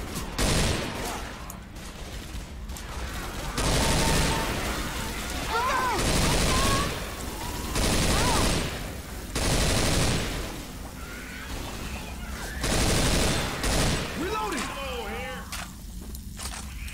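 M60 machine gun in Left 4 Dead 2 firing in several long, loud bursts of a second or two each, separated by short gaps, with scattered game effects between them.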